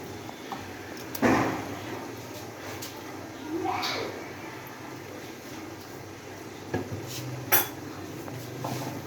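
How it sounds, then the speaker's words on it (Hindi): A spoon clinks against a glass while mixing a sabudana tapioca drink with milk, a few scattered sharp taps and scrapes at close range over a quiet room. "चम्मच की मदद से हमने इसको अच्छी तरह मिक्स कर लेना है"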